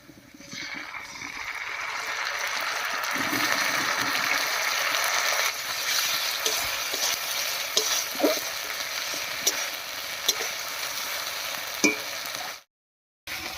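Ground spice paste stirred and fried with browned onion for a latha fish curry, producing a continuous sizzle that swells, then fades before a brief silence, with a spoon occasionally scraping and clicking against the pan.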